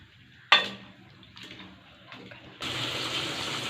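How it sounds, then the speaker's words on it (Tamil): Water poured into a pan of chicken cooking with salt and turmeric, opening with a sharp clink of utensil on metal, then a few soft knocks, then a steady, fairly loud rushing pour that continues to the end. "சிக்கனுக்கு ஏற்ற மாதிரி நம்ம தண்ணி ஆட் பண்ணிக்கலாம்."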